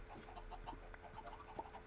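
Soft, quick clucking from a Minecraft chicken, repeated in a light rhythm, faint and fairly distant.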